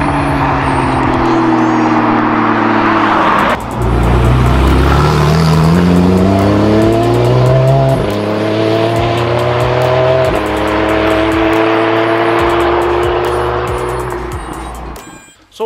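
A Porsche 911 Carrera 4S with a naturally aspirated 3.8 litre flat six revs hard and loud up through the gears, its pitch climbing and dropping with each shift, close and alone.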